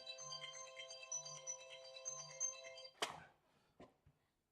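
A phone rings with a repeating melodic ringtone, faint and close, before cutting off with a sharp clatter and a brief knock.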